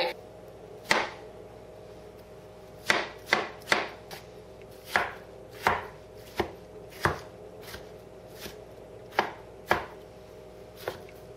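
A big knife chops red pepper on a board in a dozen or so sharp, close thuds, some single and some in quick bursts, with no talk.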